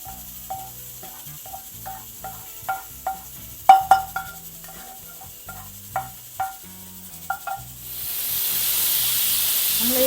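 A pressure cooker on a stove releases a loud, sustained rush of hissing steam in the last two seconds, preceded by scattered light clicks and knocks in a quiet kitchen.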